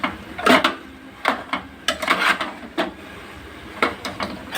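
Goat head curry with tomatoes and coriander stirred in a pressure cooker pot: a series of short scraping, clinking spoon strokes against the metal, close and irregular, with quiet pauses between.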